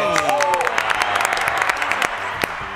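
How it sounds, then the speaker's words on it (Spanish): Studio audience applauding at a talk show, dense clapping with a few cheers and voices mixed in, fairly close and loud throughout. "Claro que, un aplauso."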